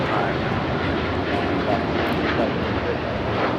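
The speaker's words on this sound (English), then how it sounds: "This is Japan Airlines Flight" Japan Airlines Boeing 787-9 Dreamliner jet taking off toward Tokyo Narita from Los Angeles airport, a steady broad distant engine roar held at an even level throughout, with faint voices mixed in.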